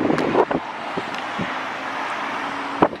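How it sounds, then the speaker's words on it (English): Gusty wind buffets a microphone outdoors, rough broadband rushing with several sharp bursts and faint passing traffic beneath, no talk. "it's so windy"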